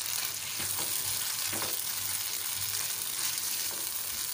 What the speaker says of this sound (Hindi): अब मैं इसमें डाल दी शिमला मिर्ची और प्याज इसको हम अच्छे से सौते करेंगे